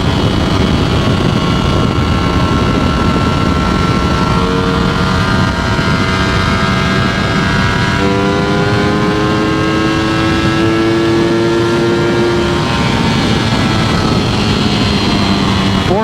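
Ducati Streetfighter V4S motorcycle revving hard through the gears to around 14,000 rpm in fourth, a loud, sustained engine whine with rising tones and gear shifts heard from the rider's position under wind noise.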